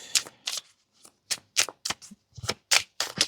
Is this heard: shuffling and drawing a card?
yes